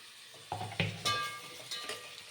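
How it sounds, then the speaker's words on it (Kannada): Tomato dropped into a frying pan and stirred while cooking fenugreek pulao, a few soft clinks and scrapes of a utensil over a faint sizzle, quiet and close. "ಟೊಮೆಟೊ ಹಾಕ್ತಾಯಿದ್ದೀನಿ."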